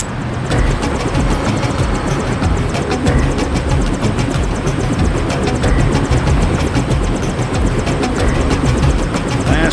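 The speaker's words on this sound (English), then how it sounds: "Take the helicopter back to base." A helicopter in the video game Deus Ex drones with a loud, continuous engine rumble and a fast pulsing rotor beat, steady throughout.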